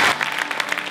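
Brief burst of audience applause at a youth employment event in Milan, dense clapping that fades slightly after the start, no talking.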